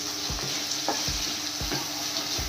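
Kadhi mixture sizzles steadily in a pan over a high gas flame while a spoon scrapes and stirs it in repeated soft strokes, close and continuous with no talk.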